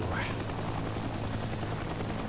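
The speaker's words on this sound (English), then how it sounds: "Bit of a circle strafe going on there, trying to get away from some of that fire." Helicopter gunfire in the video game Heliborne, a dense rapid rattle of shots over a low rotor rumble, loud and continuous for a couple of seconds.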